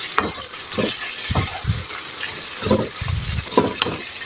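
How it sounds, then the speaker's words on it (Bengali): Chicken liver fries with spices in a pan while a spoon stirs it, giving a steady close sizzle broken by several short, regular scraping strokes, with no one speaking. "এখন আমি ভালো করে এই মশলার সঙ্গে কলিজাগুলি ভুনা করে নেব, নেড়ে চেড়ে মাখিয়ে নেব।"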